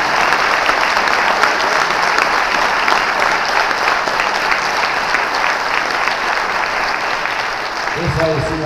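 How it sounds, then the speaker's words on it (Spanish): Sustained audience applause fills a Cóndor de Fuego award ceremony hall, dense and steady throughout, with a voice briefly emerging near the end. "para los que vuelvo a pedir el aplauso levantado de todos ustedes"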